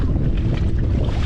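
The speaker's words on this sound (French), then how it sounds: "le vent a forcé un peu, donc" Strong wind blows at sea, a steady loud rush buffeting the microphone with a low rumble and no letup.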